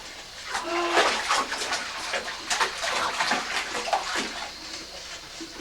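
A small child splashes and plays in bathtub water at close range, with broken bursts of splashing and dripping and an adult's voice now and then during bath time.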